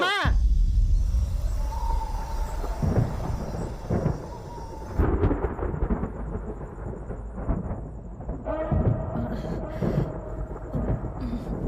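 Deep thunder rumbles before rain in a comedy scene, low rolling booms under and between people talking, with a louder crack near the start.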